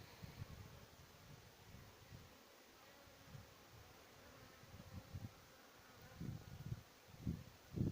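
A faint, steady hum of honey bees flying around a hive at an apiary outdoors in early March, with soft wind rustle and occasional low gusts.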